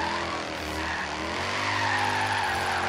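A Mercedes C63 on heavy race tires drifts in Forza Horizon 3, its tires squealing in one long, loud skid over a steady engine drone.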